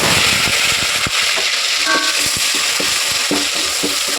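Onion paste dropped into hot oil in a pan for a meal-maker pulao, producing a loud, continuous sizzle with bursts of spattering and a few stirring knocks, no talking.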